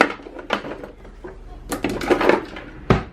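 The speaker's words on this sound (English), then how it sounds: "So I still have a few more dishes to put up." Dishes are put away into kitchen cabinets, with a series of close, sharp clatters and knocks as pieces are set down and stacked.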